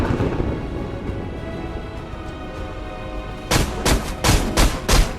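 Gunshots from a gun in the VR video game Battle Talent ring out as a loud cluster of about five sharp, echoing blasts near the end, following a quieter stretch of game ambience.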